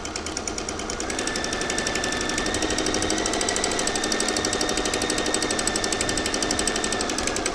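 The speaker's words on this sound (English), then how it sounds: "Remember to always start with reverse stitching." A sewing machine reverse-stitches the seam of shorts pocket bags, making a loud, close, rapid mechanical rattle that runs continuously without pause.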